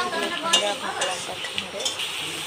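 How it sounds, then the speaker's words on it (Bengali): Crab masala with onions and salt is stirred in a frying pan, with soft scraping strokes over a light, close sizzle and no voices. "লবণ দিয়ে আরো একবার নেড়ে নিচ্ছে"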